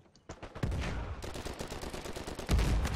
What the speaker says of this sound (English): Man, you can blind fire it pretty easily.